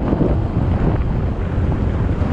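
A ferry crossing open sea toward Bohol island in the Philippines, with strong wind buffeting the microphone over a continuous low rumble and wash of water, loud and unbroken.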